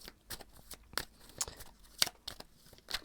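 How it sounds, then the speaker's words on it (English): A deck of Gypsy Oracle cards being shuffled, with a series of quiet, crisp riffling snaps and soft card flutters heard alone at close range. "I'm going to shuffle some of these Gypsy Oracle cards"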